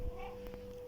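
A cat meows once in the video game Cat & Granny, a short soft cry heard faintly at a distance with light background noise.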